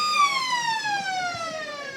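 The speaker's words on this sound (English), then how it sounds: "And finally, there's the siren." A loud ground siren sounds at an Eastern Football League Australian rules match to start play, one long sustained wailing tone that drifts slightly lower in pitch over two seconds, with no talk over it.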